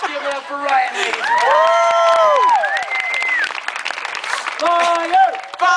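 An audience in Concord, North Carolina applauds and cheers for a boy named Ryan: loud, steady clapping with high excited shouts and whoops from children and adults over the whole stretch.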